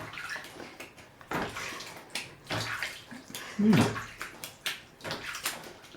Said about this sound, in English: Now, with the existing water, he needs to wash his face.